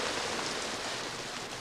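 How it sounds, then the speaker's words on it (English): Steady rain hisses down, a dense even patter close by with no voices or other sounds. "More rain."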